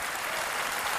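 Applause from a live concert audience in Greece for a singer, a dense, steady wash of many hands clapping at even loudness throughout, with no voices standing out.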